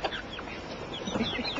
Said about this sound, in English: all the chickens are completely ignoring Bethany